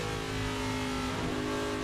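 NASCAR Nationwide Series stock cars running three wide at Nashville in 2009, a sustained loud engine roar with droning harmonic tones, steady and close throughout, without audible talk.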